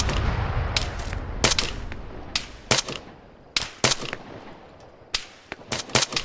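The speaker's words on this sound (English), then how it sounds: "Under fire! Taking fire!" Gunfire in the military shooter Arma: a dozen or so sharp rifle cracks in irregular bursts and single shots, some close and punchy, others softer and farther off, over a low rumbling background.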